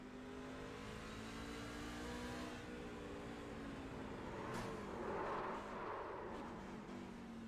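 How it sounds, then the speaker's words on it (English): Race truck at Atlanta Motor Speedway downshifting after a crash while grinding along the wall, heard from the cockpit as a loud continuous engine roar with shifting pitch and a rough scraping rise toward the end. "you can hear him downshift after the incident"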